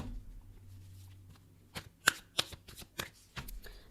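A deck of tarot cards is shuffled up close, with a run of soft riffling and several crisp snapping flicks of the cards, with no talking.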